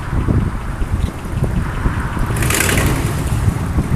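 A revived Ford V8 car rolling off, with a loud, rough low engine rumble and heavy wind buffeting on the microphone, plus a brief hissy burst midway through.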